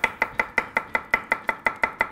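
A knife chops garlic cloves finely on a cutting board in a home kitchen, giving a quick, even run of about a dozen sharp, close taps with no talking.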